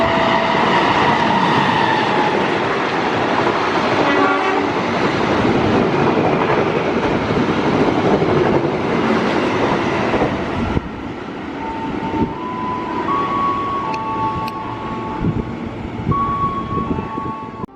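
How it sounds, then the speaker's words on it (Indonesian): A passenger train runs straight through station track 2 from the west without stopping, a loud sustained rumble of wheels and cars that fills the scene, then drops off sharply as the last car clears, leaving quieter ambience with faint high tones. "Di jalur 2 dari arah barat, jalur 2 kereta api melintas langsung di jalur 2."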